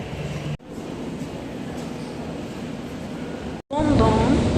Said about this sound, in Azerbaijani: Burada da gördüyünüz kimi qatardayam